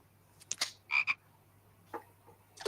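Frog croaks in short bursts, a few close calls spread unevenly with quiet gaps, over a low steady hum, no voices.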